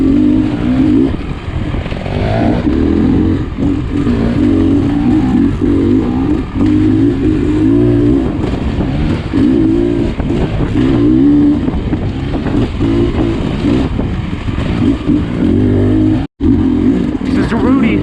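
A Beta Xtrainer dirt bike ridden fast along singletrack, its engine droning steadily and loudly throughout with shifting revs, a brief dropout near the end.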